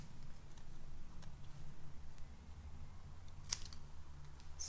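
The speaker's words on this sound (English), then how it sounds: "I'm just going to stamp Merry Christmas on there and snip off the edges." Scissors snipping the edges of a stamped paper card, several quiet crisp cuts spread over a few seconds against a faint background hum, no talking.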